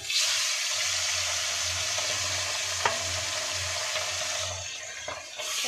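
Salted, turmeric-coated fish fry in a wok with a steady, close, high sizzle that holds throughout, broken only by a faint utensil clink midway.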